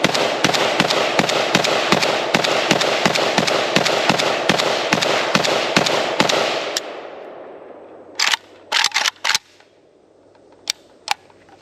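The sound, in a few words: Russian Legion AKM rifle firing test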